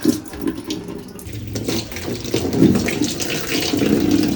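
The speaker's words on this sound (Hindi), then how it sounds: "तो नल वगैरह भी खोलते हैं यहाँ से" Water gushes steadily from an opened household tap into a sink, a close, continuous splashing hiss that grows slightly louder as it runs.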